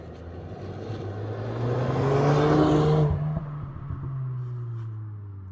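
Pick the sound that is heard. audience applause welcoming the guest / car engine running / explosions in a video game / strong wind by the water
car engine running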